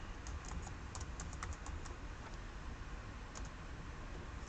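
Rapid keystrokes on a computer keyboard as a password is entered during an Oracle software installation on a Linux server, light irregular clicks close by over a steady background hum.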